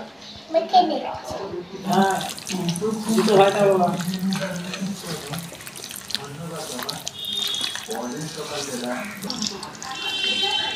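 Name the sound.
running tap water, washing hands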